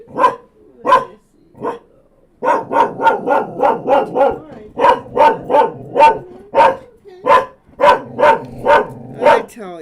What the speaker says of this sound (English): I tell you, I know my dog. It doesn't matter what's causing the bark.